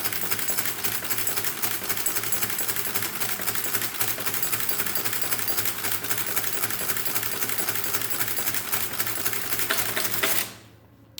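A Hermes 167-12 mechanical printing calculator runs a division, its gears clattering in a fast, dense mechanical chatter as the carriage steps across columns, loud and continuous before stopping abruptly.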